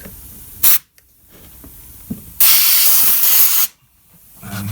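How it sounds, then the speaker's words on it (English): Compressed air blasting into a Lexus GS430 front brake caliper to push out the pistons, heard as a short loud hiss, a pause and a small knock, then a longer hard blast over a second long. "And then, with some compressed air I prepared earlier"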